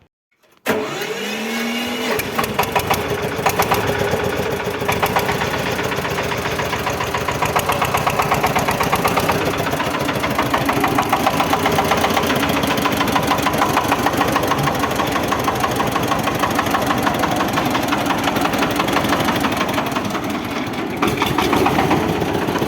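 A Mahindra 35 tractor's diesel engine idles steadily and loudly nearby, a constant rough rumble that runs on with no talking.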